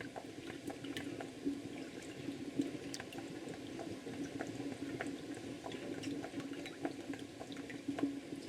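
Lime juice poured into a saucepan for canning candied jalapeños, a faint steady trickle and splash of liquid with quiet background hiss throughout.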